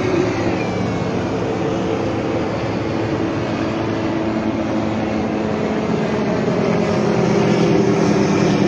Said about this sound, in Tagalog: May helicopter dito Ayan